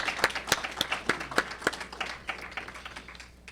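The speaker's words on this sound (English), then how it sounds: "So please give all of our candidates a round of applause for being here tonight." Audience at a federal by-election candidates' dialogue in Cloverdale-Langley City clapping for the candidates: sparse, distinct individual claps with a rhythmic patter, fairly light and thinning out toward the end.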